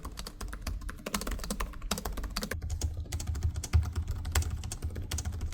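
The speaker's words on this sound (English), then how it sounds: "Now this is what their keyboards sound like." Keys being typed on Asus ROG Zephyrus G16 and STRIX G16 (2025) gaming laptop keyboards, a close, dense run of rapid clicky and thumpy keystrokes with no talking.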